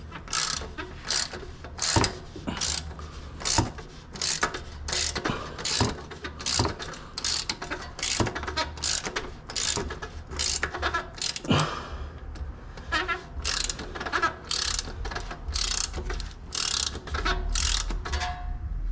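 A ratchet wrench torquing down a part during an oil change on a 2015 Scion tC, a rapid run of close, loud clicking bursts repeating in steady strokes with brief pauses between pulls.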